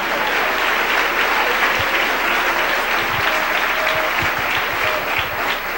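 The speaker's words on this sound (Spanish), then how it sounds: "Denle un aplauso al Rey en esta noche." A church congregation applauds during a Spanish-language service, sustained loud clapping from many hands filling the room with no speech over it.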